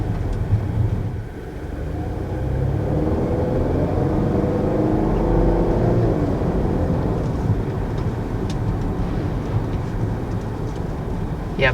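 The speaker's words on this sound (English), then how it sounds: "So, taking off in the 2019 S60." A 2019 Volvo S60 with a 316-horsepower supercharged and turbocharged engine accelerates from a standstill, a steady engine drone rising in pitch as heard from inside the car, with no speech.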